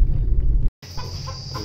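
Live chickens at a chicken shop cluck in a few short calls over a steady low rumble of shop noise, with a brief break in the sound partway through.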